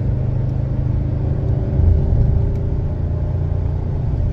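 A Toyota Tundra pickup towing a big enclosed trailer accelerates onto a highway, its engine a loud, steady low rumble from inside the cab that swells briefly midway, with no voices.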